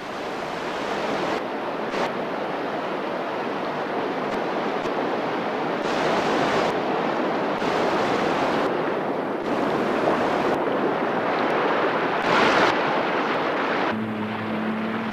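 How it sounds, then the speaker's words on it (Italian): Floodwater rushing violently over a river road crossing during the Australian wet season, a loud continuous roar of churning water with gusts of wind buffeting the microphone. "l'acqua sembra bassa, ma scorre con una tale violenza da spingermi via"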